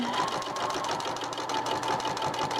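A sewing machine stitches binding onto a quilt, its motor running in a steady, continuous whir at close range for the whole stretch, with no voices.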